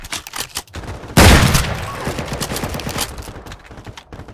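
A small double-barrel shotgun fires one loud, close blast that rolls into a long, booming decay, with softer noise before it.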